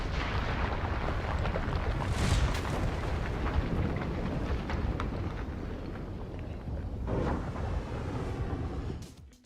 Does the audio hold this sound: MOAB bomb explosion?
yes